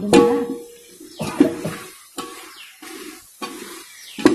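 Green chillies being stirred into chicken biryani masala in a large pot, with repeated scraping and wet sizzling strokes in a steady rhythm, close and fairly loud, no voices.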